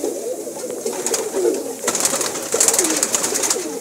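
Pigeons coo close by in a loft, several soft rolling calls overlapping in quick succession, with brief rustling and flutter between them.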